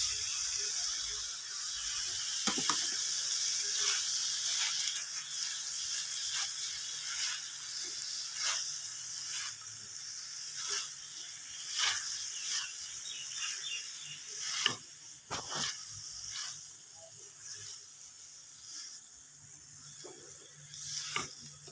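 Dry macaroni tipped into a cooking pan, giving quiet scattered clicks and a light pattering rattle over a low steady background hiss, with no talking.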